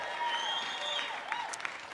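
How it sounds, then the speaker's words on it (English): Faint, steady applause from a Mardi Gras parade crew at an outdoor pre-parade gathering, with a few whistles and cheers rising above the soft clapping near the end. "So give yourselves a round of applause."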